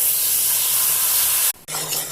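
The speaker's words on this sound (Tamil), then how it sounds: "இப்போ நம்ம கரைச்சி வச்ச மாவை தெளிவாக சேர்த்துக்கலாம்." Ragi flour batter poured into hot caramelized sugar for ragi halwa hisses and sizzles loudly and steadily, breaks off sharply for a moment, then resumes more softly.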